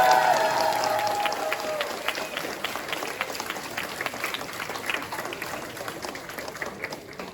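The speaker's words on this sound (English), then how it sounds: "So I think Fien deserves a round of applause." Crowd applause at the opening ceremony of a convention, many hands clapping at once in a dense, steady wash that gradually fades, with a voice briefly heard at the start.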